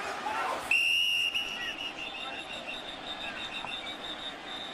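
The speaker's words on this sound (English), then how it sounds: "And a whistle and a penalty." A referee's whistle blows at an NFL football game between the Redskins and Raiders, a sharp sustained tone that cuts in and then fades over crowd noise in the stadium.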